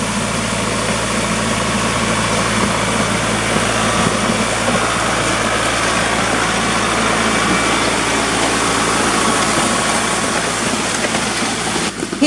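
A new tractor's engine runs steadily while smoothing a driveway, a constant low rumbling drone with faint vibration, close and unbroken throughout.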